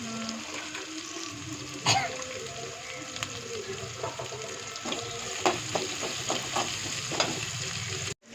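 Onions sautéing with fennel seeds in a pan, a moderate continuous sizzle broken by clinks and scrapes of a stirring spoon, ending with a sudden cutoff.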